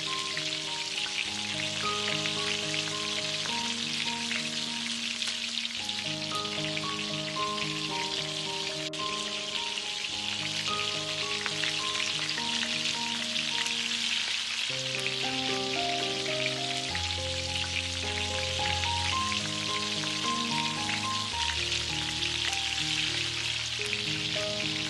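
Sliced onions and three brinjals fry in hot oil for a Tamil prawn curry, giving a steady, close crackling sizzle beneath continuous background music.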